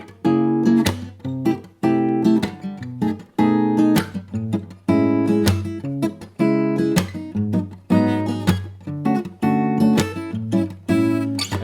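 The chromatic walk-down bridge of a song is played on guitar as a repeating phrase of strummed chords that step down in short bursts. It is heard close and clean, with no talking.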